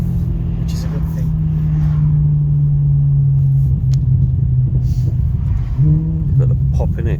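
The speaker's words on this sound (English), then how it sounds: "Got the pop in it as well on the exhaust." Maserati Quattroporte engine and exhaust while driving through a roundabout, a steady low drone that dips and rises with throttle and a brief pop from the exhaust near the end, heard from inside the car.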